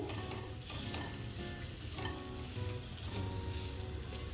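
Dates softening in hot ghee in a pan, a steady close sizzle and crackle with occasional stirring scrapes, continuous and even throughout.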